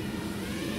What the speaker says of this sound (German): Der Copter hat echt genug Leistung und das ist wirklich ein schöner Copter